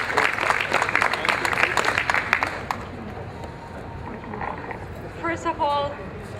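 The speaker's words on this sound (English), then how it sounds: "Let's give them a nice round of applause for being good parents" A protest crowd outdoors applauding a couple, a burst of dense clapping and cheering that fades after about three seconds into murmuring voices and background noise.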